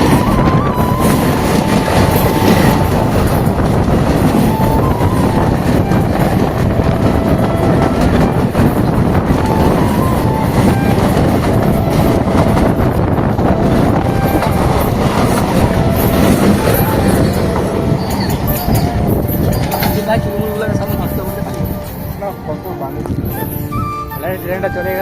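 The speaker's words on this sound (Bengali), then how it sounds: "ফাইনালি গাইস ট্রেন চলে আসছে" A train thunders past at close range, a loud continuous rolling roar with rhythmic wheel clatter that holds for most of the time, then eases and fades near the end.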